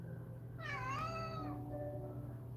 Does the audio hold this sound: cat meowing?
yes